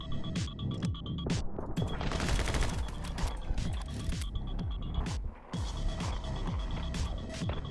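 Rapid bursts of gunfire from the video game My Friend Pedro crack out in quick, irregular volleys, loud and close, with a brief lull before the shots resume.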